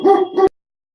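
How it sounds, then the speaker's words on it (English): A single dog barks twice in a quick close pair, loud and near, then silence follows. "we have two dogs, a big one, and we have a caniche, a toy"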